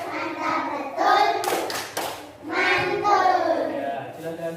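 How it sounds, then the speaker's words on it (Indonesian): A class of schoolchildren performs the 'tepuk mantul' clapping chant in a classroom, rhythmic hand claps mixed with chanted voices, with a short burst of louder clapping in the middle. "Jadi tepuk mantul untuk Mbak Irsya"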